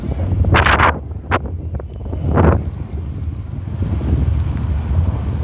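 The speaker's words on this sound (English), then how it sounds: "A little windy out here." Wind buffets the microphone with a steady roar at a fire scene in Sunset Park, Las Vegas, broken by a few sharp gusty bursts near the start.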